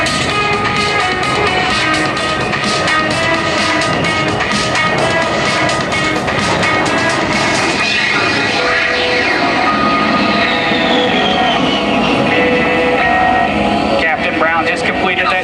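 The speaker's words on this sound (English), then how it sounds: "Brown is now repositioning his aircraft to perform a level 360-degree high G turn" An A-10 Thunderbolt jet roars continuously through a tight high-G 360-degree turn at an airport airshow, with a rising and falling whine as it swings around, under an announcer's voice over loudspeakers.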